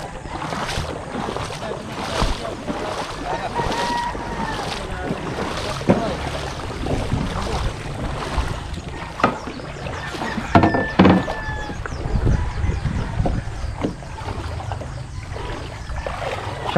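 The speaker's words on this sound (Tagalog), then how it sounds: "tayo makakasakay sa bangka ni Kuya Cards" A small fishing boat on open sea, with an engine drone, splashing waves and wind, plus occasional knocks and faint voices in the background.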